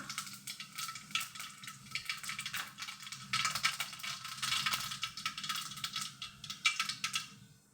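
Mustard seeds and cumin crackle and sizzle in hot oil in a pan on a gas stove, irregular popping bursts that swell and fade, with no talking.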